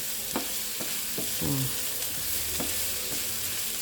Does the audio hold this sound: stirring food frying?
yes